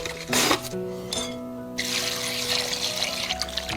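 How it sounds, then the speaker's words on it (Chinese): Tap water runs and splashes over shredded potatoes being rinsed in a bowl, a close, uneven trickle and slosh as the shreds are stirred, with no speech. "要不停的清洗，直到水变得清澈"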